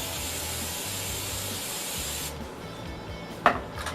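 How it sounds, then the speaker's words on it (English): Hairspray hisses from a can onto hair during a styling session for about two seconds, a close, steady airy spray that stops abruptly and is followed by a small handling click. "I just kind of spray it down a little bit."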